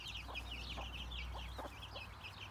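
Hens clucking in a free-range poultry enclosure where chicks are kept, several short calls scattered over a steady low background hum, no voices.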